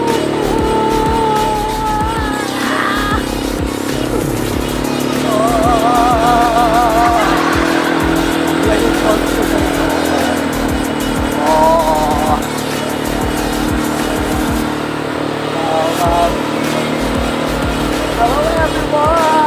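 An ATV driven on an outdoor ride in Ilocos Sur, a loud, continuous engine drone with rising and falling revs and some skidding, close to the microphone, with excited voices talking and shouting over it throughout.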